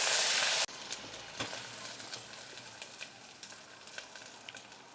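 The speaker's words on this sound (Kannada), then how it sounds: "ಶುಂಠಿ ಬೆಳ್ಳುಳ್ಳಿ ಪೇಸ್ಟ್ ಕೂಡ ಸೇರಿಸ್ಕೊಂಥದ್ದು. ಇದು ಕೂಡ ಈಗ ಹಸಿ ಸ್ಮೆಲ್ ಹೋಗೋವರೆಗೂ ಇದನ್ನು ಫ್ರೈ ಮಾಡ್ಕೊಳ್ಳಿ" Ginger garlic paste frying with onions in a pan for an almond mutton curry, a steady close sizzle after a brief loud burst at the start, with occasional stirring clicks.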